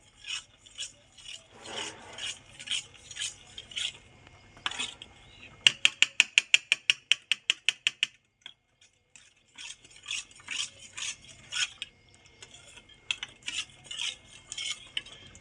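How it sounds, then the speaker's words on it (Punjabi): A spoon mixing custard powder into cold milk for a bottle gourd shake, with rhythmic scraping and clinking strokes against the bowl, including a fast burst of rapid regular stirs midway and a brief pause, close and clear. "ਹੁਣ ਇਹਨੂੰ ਆਪਾਂ ਚੰਗੀ ਤਰ੍ਹਾਂ ਮਿਕਸ ਕਰ ਲੈਂਦੇ ਆ ਤਾਂ ਜੋ ਵਿੱਚ ਕੋਈ ਗੰਢ ਨਾ ਪਵੇ"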